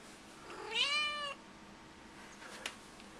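An excited cat lets out one drawn-out, rising meow, close and clear in a quiet indoor space, followed by a faint click.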